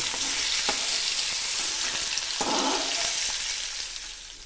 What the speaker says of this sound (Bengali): কড়াতে আমি কালো জিরে ফোড়ন দিলাম, আর দিলাম দুটো কাঁচা লঙ্কা, পেঁয়াজ আর রসুন একসাথে